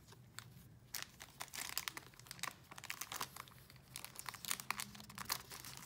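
A pet plays with crinkly wrapping paper from an unboxing, making close, busy bursts of crumpling and rustling with small tearing sounds throughout, no talking.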